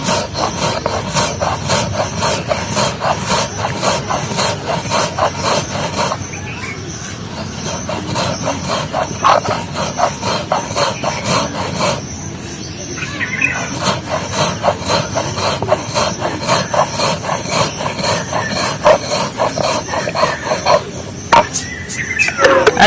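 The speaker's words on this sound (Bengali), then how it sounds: "এটা এবার শিলনোড়াতে নিয়ে নেব। শিলনোড়াতে আমি ভালো করে বেটে নেব।" Paste is ground on a shil nora grinding stone, a continuous gritty rolling and scraping of stone on stone in a steady rhythm, close and loud throughout.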